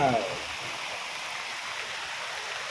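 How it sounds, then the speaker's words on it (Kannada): Heavy rain falls steadily in Bangalore with no wind, a dense continuous hiss of water pouring down, close and even throughout. "ಫುಲ್ ಜೋರೈತೆ ಮಳೆ"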